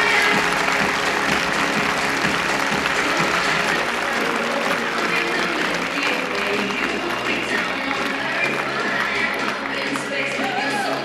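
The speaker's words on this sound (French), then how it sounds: "messieurs, dames, on peut les applaudir bien fort." Crowd in a sports hall applauding the finalists of a French badminton championship men's doubles final, loud sustained clapping with cheers and voices mixed in, tapering slightly toward the end.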